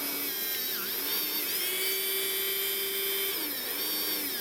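An RC car tire being scuffed lightly to take the shine off, heard as a steady high-pitched motorized whine that holds constant for several seconds with slight dips in pitch.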